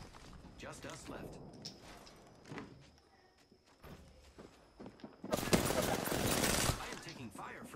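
Gunfire in Apex Legends, with a loud close burst near the end following quieter, scattered shots and game sounds, while a player talks over it.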